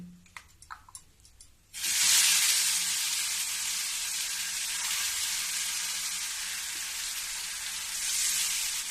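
Ground spice paste hits a hot pan with cumin and fenugreek already roasting, setting off a sudden loud, steady hiss of frying that holds for several seconds after a few soft clicks and clatters, with no talking.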